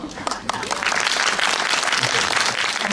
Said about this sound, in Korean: 박수 보내드리면서 마무리하겠습니다.